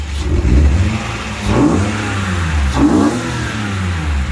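A Daytona Violet BMW E36 M3 engine is revved close by, with three loud revs rising and falling over a steady idle and a slight stumble in the running. No voices are heard.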